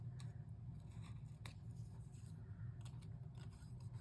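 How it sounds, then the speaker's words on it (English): Scissors trim paper butterflies in a string of small, crisp snips scattered across a steady low hum, close and quiet, each cut a short papery click. "I'm going to trim this a little better because I must have did this very quickly"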